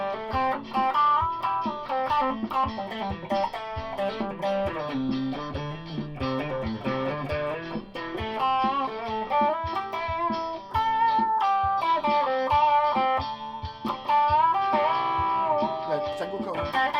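An electric guitar in humbucker mode on the middle pickup plays a continuous melodic line through a Governor distortion pedal, with sustained, gritty notes and no other instruments.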